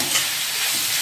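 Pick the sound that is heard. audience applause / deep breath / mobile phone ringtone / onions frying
onions frying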